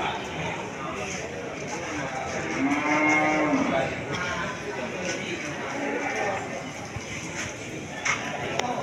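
Cattle at a livestock market moo with a single drawn-out low call in the middle, set against busy crowd chatter and people talking throughout.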